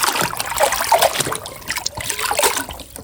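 A yellow toy oil tanker truck swished and splashed through water, brief trickles and sloshes over about three seconds, close and moderately loud.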